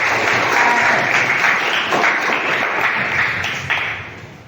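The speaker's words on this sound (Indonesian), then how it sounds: "tepuk tangan dulu untuk Tasya" Classroom applause for a student named Tasya after her presentation, a dense burst of clapping from the class that holds steady and then tapers off at the close.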